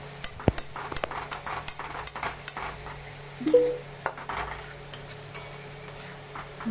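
Ginger-garlic paste stirred into crab in a pan for a spicy Bengali crab curry: a spatula scrapes and clinks against the metal in an irregular rhythm, close and fairly quiet, with faint sizzling beneath.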